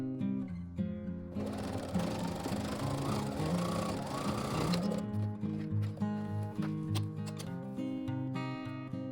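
Sewing machine stitching the handle of a Japanese origami fabric bag, a rapid mechanical whir in one sustained burst followed by slower clicking and rattling, close and alone.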